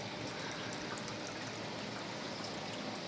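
Pumped water flows steadily through a garden creek system, a soft continuous trickle and babble heard up close with no other sounds.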